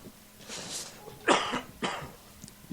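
Two sharp coughs close to the mic, with a brief throat-clearing rasp before them, in a quiet room.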